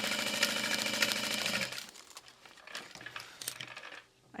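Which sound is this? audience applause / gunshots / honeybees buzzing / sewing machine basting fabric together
sewing machine basting fabric together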